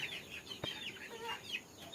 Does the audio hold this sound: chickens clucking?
yes